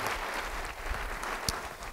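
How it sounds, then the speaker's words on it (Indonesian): Church congregation applauding during a sermon, a brief steady wash of clapping from a large group, fairly even and slightly distant. "beri tepuk tangan bagi dia"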